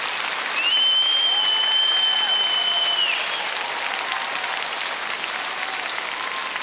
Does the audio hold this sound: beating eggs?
no